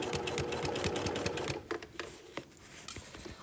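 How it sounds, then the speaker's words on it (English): A sewing machine stitches a casual shirt seam at a quarter-inch allowance, running in a brisk burst for about a second and a half, then giving way to scattered clicks and short mechanical taps. "I'm going to begin by going backwards right up to that stitch line and then continue forward"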